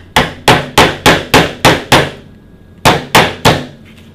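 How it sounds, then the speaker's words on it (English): A camera lens used as a hammer drives a nail into wood: seven sharp, evenly spaced knocks close to the microphone, a short pause, then three more, each ringing briefly with no voices. "If you ever want to hit a nail into a piece of wood with a lens"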